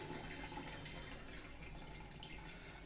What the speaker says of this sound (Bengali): আলু কলা এগুলো কেটে জল দিয়ে রাখি